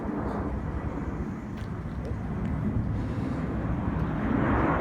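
An airplane passes overhead during an outdoor urban garden shoot, a steady broadband roar that swells slightly toward the end and stays loud throughout with no clear talk.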